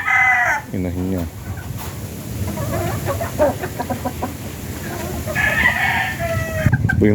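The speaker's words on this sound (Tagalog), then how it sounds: "Ito po yung mga inahin namin." Gamecock hens and roosters cluck and crow at close range in a farm yard, with a loud crow near the start and steady clucking throughout while someone talks over them.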